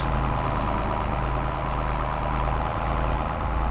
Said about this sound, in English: It's nice being in an open tractor. Definitely noisy and dirty